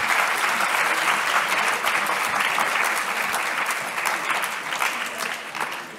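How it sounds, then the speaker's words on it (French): An audience applauds at a student eloquence competition at Audencia in 2024: dense, sustained clapping fills the whole stretch at a steady, loud level, easing slightly toward the end. "Je vais encore l'applaudir."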